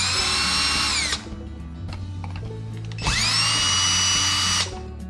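A power drill drives the screws that mount a replacement GFCI outlet into its electrical box, sounding as two loud, close, high-pitched whirring bursts separated by a short pause.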